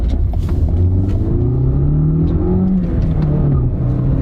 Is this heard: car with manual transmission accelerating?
yes